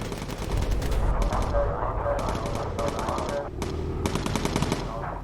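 Rapid bursts of aircraft machine-gun fire from a bomber's gun turrets in the video game Bomber Crew, repeated stuttering volleys fired close and loud, with a faint background drone.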